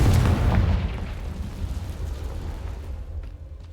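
Confringo spell explosion in Hogwarts Legacy: a loud, close blast at the start that rolls into a long rumbling decay, fading steadily over a few seconds.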